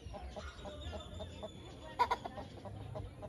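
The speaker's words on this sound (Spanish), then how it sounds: "Pues tiene bastantes gallinas mi hermana" Several chickens cluck softly nearby in a rural yard, faint scattered clucks with a brief louder burst midway, quiet background.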